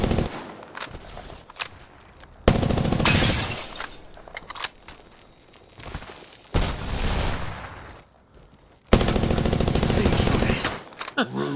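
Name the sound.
smart bullets gunfire in Apex Legends video game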